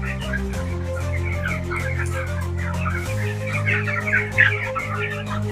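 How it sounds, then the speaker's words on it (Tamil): Many broiler chickens on a farm cluck and chatter throughout, a dense flock sound over a constant low mechanical hum of fans. "நல்லா பாருங்கள் கோழி எப்படி இருக்கு"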